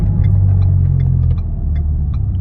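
Deep, loud exhaust rumble from a 2012 Ford Fusion 2.5L fitted with a Magnaflow 10416 muffler, heard close while driving, a steady low drone that eases slightly partway through, with light road noise on top.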